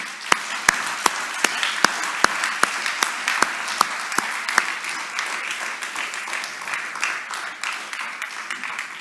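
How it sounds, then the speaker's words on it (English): At a tax certainty awards ceremony, commissioners walking up to receive awards get light, sparse clapping: a handful of sharp, evenly spaced claps for several seconds that thins out, leaving a low murmur of room noise. "let's give them a hand of applause as they come up."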